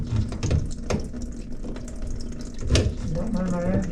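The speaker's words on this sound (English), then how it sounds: "Gonna let it drain down because it's all these sinks on both sides." Water gurgling and rushing as commercial bathroom sinks drain after a clog is cleared, a steady close wash with splashy spikes and a voice talking over it.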